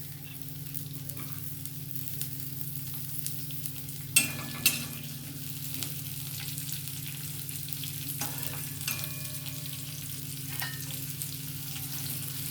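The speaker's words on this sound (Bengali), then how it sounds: "পেঁয়াজ রসুন দিলাম, একটু ফ্রাই করে নিচ্ছি।" Onion and garlic fry in a pan for a Bengali katla fish dish with a continuous, moderate sizzle. Occasional scraping stir strokes break through, and there is no talk.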